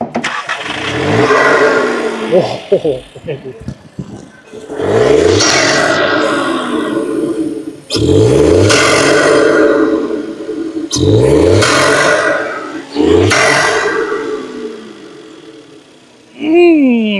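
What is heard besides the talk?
VW Polo GT TSI engine starting and idling, open air intake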